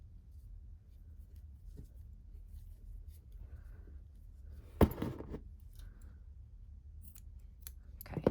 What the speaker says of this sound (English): Cut the tail over here as well.